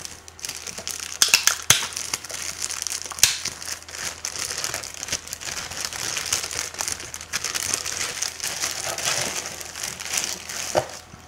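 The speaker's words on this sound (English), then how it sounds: "And we got some styrofoam and some more styrofoam" Styrofoam and plastic packing from a Two Notes Torpedo Captor box being handled up close, a steady run of crinkling, crunching and rustling with sharper crackles throughout, no talking.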